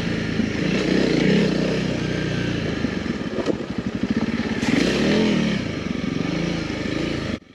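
A motorcycle on a test ride in Portugal, fitted with a YSS aftermarket rear shock and stiffer spring, drones steadily and close throughout. The engine note rises and falls slightly with throttle over a rushing wind-like hiss, with no talk.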